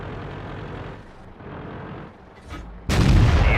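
Inside the World of Tanks video game, a low engine rumble runs for a few seconds before a single loud tank cannon shot booms out close and heavy, its blast filling the end.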